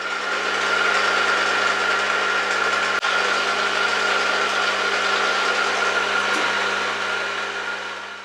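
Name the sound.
drilling small hole in metal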